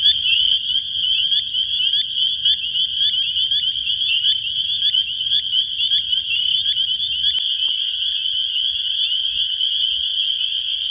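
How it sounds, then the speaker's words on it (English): A dense chorus of spring peeper frogs in New Jersey fills the whole stretch with loud, continuous high-pitched peeps, many overlapping calls pulsing steadily with no voices. "you can really just get an idea of how abundant the spring peepers are"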